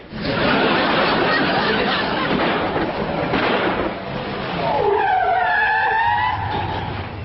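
A 1963-era car rolling into the Clampetts' driveway, a loud broadband roar of tires on gravel and engine noise that swells, then fades as it arrives, with a voice speaking over the end.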